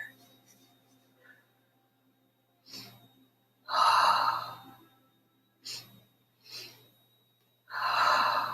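Guided breathwork breathing: a few faint short breaths, then deep, forceful inhales and exhales in an irregular pattern, close and breathy, with a soft steady hum underneath.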